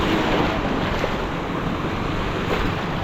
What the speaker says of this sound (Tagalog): Mataas na yung alon dito.